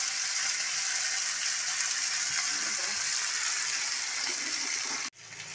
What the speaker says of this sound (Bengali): তো দেখো পেঁয়াজ রসুন আদার পেস্ট আমি দিয়ে দিচ্ছি।